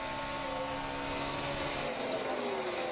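NASCAR stock cars at speed on the Charlotte track during the 2008 Bank of America 500, a steady, loud, continuous engine roar with whining tones and no talk.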